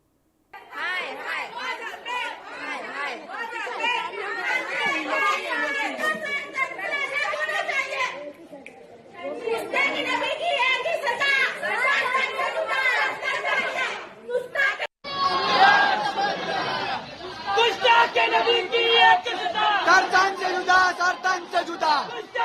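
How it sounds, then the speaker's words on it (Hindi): A large mob chants the slogan 'sar tan se juda' together in loud, continuous crowd voices, with a brief break partway through before the chanting surges back even louder. "वहां पर जो मॉब है, जो भीड़ है, वो कह रही है सर तन से जुदा होना"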